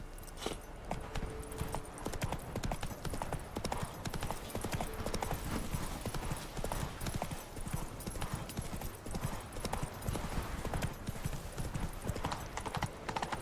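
Roach, Geralt's horse in The Witcher 3, clip-clops steadily along at a walk, hooves close and continuous over a dense game soundscape with a faint neigh.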